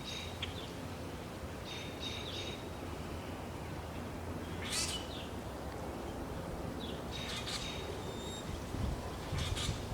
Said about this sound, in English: It's almost like the birds see my camera come out and they feel like it's an invitation, which delights me.